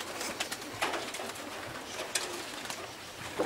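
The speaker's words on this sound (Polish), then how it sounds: "Gołębie latające nad gołębnikiem" Pigeons flying over their loft outdoors, soft cooing mixed with bursts of wing flutter as birds pass overhead, moderately near, over a steady open-air background.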